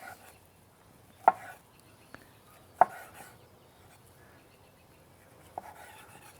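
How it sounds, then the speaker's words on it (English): A knife cutting an orange into thin slices on a board, a few sharp, separate chops spaced a second or more apart over quiet background, near and fairly soft. "turn our orange sideways, and just make some nice, thin slices"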